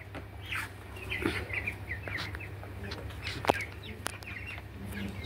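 Twenty-four-day-old white broiler chickens cluck and chirp in a flock, with soft overlapping calls and scattered sharper peeps over a steady low background hum.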